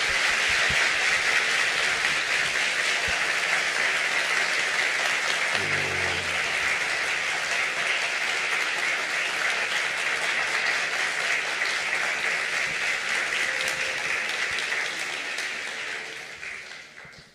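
Sustained applause from a large audience at a university talk event, dense and steady, fading out toward the end.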